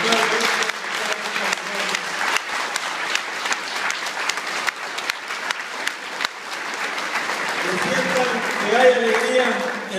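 A congregation at a Catholic Mass in Amoladeras applauds the priests, strong continuous clapping from many hands, with voices rising over it toward the end.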